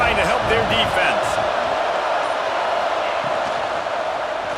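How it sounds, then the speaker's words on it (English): Stadium crowd noise in EA Sports College Football 26 swells as a dense, loud, continuous roar, with a brief burst of commentary-like voices at the start. "Listen to this crowd just shaking the girders of this place trying to help their defense."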